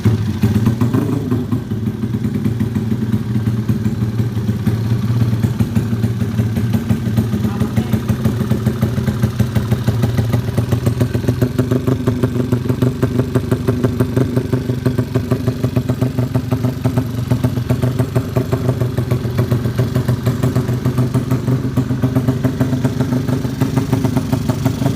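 A Honda Supra motorcycle with a low-compression engine idling steadily up close, a deep, even, throbbing burble with a light mechanical clatter, continuous and alone without talk.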